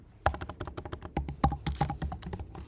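Typing on a computer keyboard, a quick run of about twenty close, crisp key taps in an uneven rhythm, alone with no talk.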